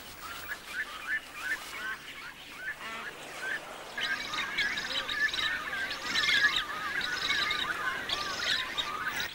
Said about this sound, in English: In the crush, sacred ibis and little pied cormorants set up a communal nest.